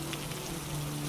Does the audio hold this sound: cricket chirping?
no